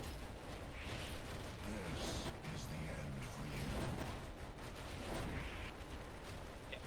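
Weapon fire from the game NecroVisioN, a dense, continuous rumble of shots and blasts with speech-like voices murmuring underneath throughout.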